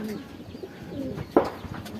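Racing pigeons back at their loft after a race lap give low, soft, repeated coos close by, with a brief sharp knock partway through and faint voices in the background.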